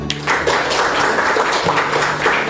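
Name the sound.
audience clapping after class presentation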